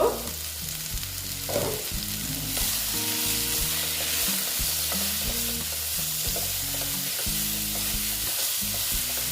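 Pumpkin and eggplant frying in a pan for a mourala fish sour curry, a steady close sizzle with stirring scrapes, mixed with a clear backing melody of tonal notes throughout.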